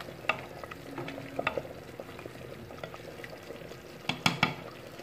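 A spoon stirs a thickening ground meat sauce in a pot, giving soft scrapes and occasional sharp clinks against the metal over a low simmering sizzle, with no talking.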